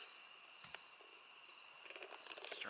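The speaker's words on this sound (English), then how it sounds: "Starting to hear the crickets." Crickets chirp in Cades Cove in the Great Smoky Mountains in early September, a faint, steady high-pitched trill with slight pulsing, distant and soft with no voices.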